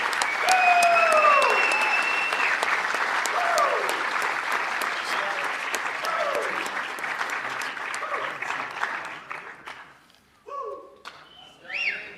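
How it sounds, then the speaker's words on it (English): An audience at a school winter sports awards ceremony applauds student athletes with steady, loud clapping that gradually fades out, while whoops and a voice rise over it before the clapping stops. "Please join me in one more round of applause for these distinguished student athletes."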